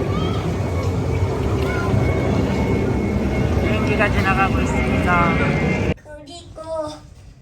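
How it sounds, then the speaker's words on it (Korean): An airplane passes over a resort pool area at Paradise City, a steady broad roar filling the air for several seconds before cutting away, with people talking nearby. "비행기 지나간다."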